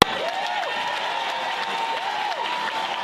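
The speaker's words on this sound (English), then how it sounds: "A resounding applause" A crowd at a political gathering in Grenada applauds for a Member of Parliament, a steady wash of clapping that holds evenly throughout, with faint sweeping tones drifting over it.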